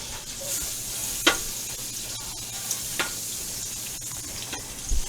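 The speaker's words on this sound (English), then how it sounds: "we're going to melt 2 tablespoons of butter along in there with everything" Butter melting and sizzling in a pan alongside seared chicken for fricassee, a steady soft crackle with a few sharper spatters and stirring scrapes, close and moderately quiet, no talking.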